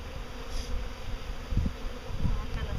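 A dense, steady buzz of many honeybees around a hive fills the air up close, a continuous droning hum with occasional louder swells as insects pass nearby.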